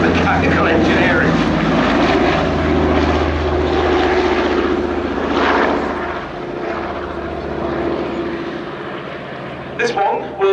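A Consolidated Catalina amphibious aircraft, a Canadian Vickers-built Canso, flies past at an airshow with its landing gear down, its loud, steady propeller-engine drone filling the air beneath a commentator's voice.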